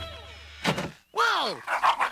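Cartoon dog barks and yelps in a short burst, a sharp thump followed by a long whining howl and a couple of quick yips, close and loud against a musical background.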